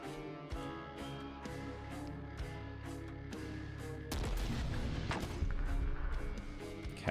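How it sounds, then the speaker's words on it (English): Mortar fire in the video game The Last Spell, with heavy booming impacts and crashes arriving over a steady rhythmic music bed and growing denser and louder in the second half. "maybe we can use mortars to help out with these guys?"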